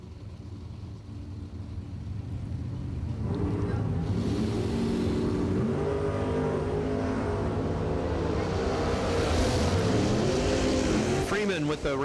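Drag racing cars launching at a bracket race, a Nova in the left lane and the Boss Lady Camaro, their engines building into a sustained loud roar that rises and holds, with an announcer talking over it.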